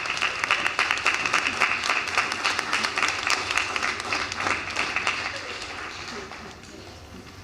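Audience at a school board business meeting clapping steadily, a dense crackle of many hands that holds for several seconds before thinning slightly near the end.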